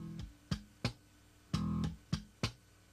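Slap bass played slowly, alone and close: six separate sharp attacks in three seconds, mixing thumb slaps, left-hand clicks and plucks, each ringing briefly before the next.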